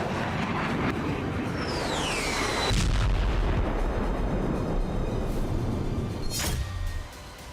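Russian artillery bombardment in Ukraine: heavy booming blasts and rumbling detonations follow one another, with a falling whistle-like tone early on and a sharp, loud explosion near the end before the noise drops away.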